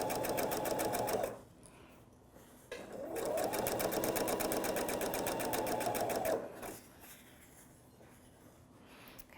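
A domestic sewing machine stitches a lapped zipper into fabric, running steadily for about a second, stopping, then running for a longer stretch of several seconds, with a softer motor hum and quiet pauses between the bursts.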